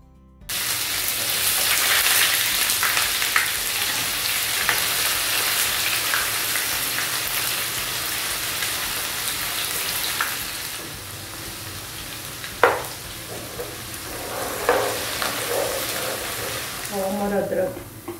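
Chopped onion fries in oil over roasted cumin seeds, a loud, steady crackling sizzle filling the whole stretch like heavy rain, with a few clinks and stirring knocks near the end.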